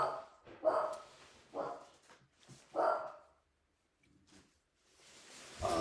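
A dog barks in loud bursts, about four barks spaced through the first three seconds, close to the microphone in a home setting, followed by quieter low noises and a rising sound at the end.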